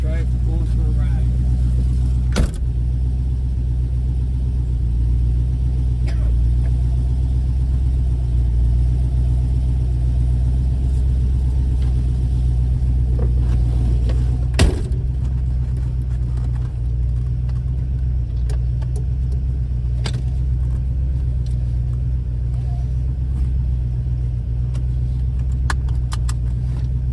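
A V8 Ford Falcon on a test drive, its engine a steady low rumble throughout with a few sharp clicks and knocks, while people talk over it inside the car.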